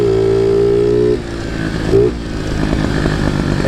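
Chinese pit bike engine running nearby, a buzzy single-cylinder drone holding a high idle, then dropping to a lower rough idle with a brief blip of revs midway.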